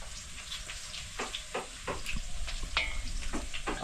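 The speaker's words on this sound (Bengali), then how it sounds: "এখানে আদা বাটা রসুন বাটা আর পেঁয়াজ কুচি এগুলো দিয়ে দেবো" Ginger paste, garlic paste and chopped onion fry in a pan on a boat, with a close, steady sizzle under repeated scraping stirs.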